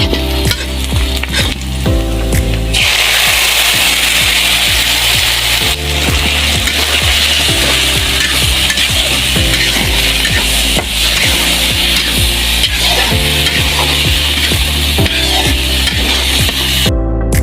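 Onions, green chilies and panch phoron fry in oil on a stove as lentils for dal bhuna are added, making a loud, steady sizzle with continuous scraping and stirring close by throughout.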